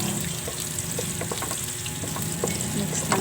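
Garlic and sliced onion fry for pork sarciado, a loud continuous sizzle with scattered taps and scrapes of stirring in the pan.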